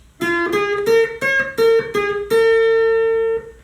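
An electric or acoustic guitar plays the solo line from a song: seven clear picked notes in a slow, deliberate phrase, the last one held and ringing out for over a second, close and alone with no voice.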